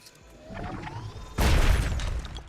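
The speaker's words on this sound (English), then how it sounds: "Flashbang fish." An underwater flashbang fish creature in the video game Subnautica 2 goes off with one sudden, loud, full-bodied burst that cuts through a quiet ambient hum and then lingers as a dense rumble.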